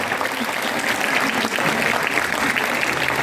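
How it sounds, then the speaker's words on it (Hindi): Steady, dense applause from an audience at a quiz prize distribution ceremony, loud and continuous throughout with faint voices mixed beneath the clapping. "तालियों की भरपूर तालियों में"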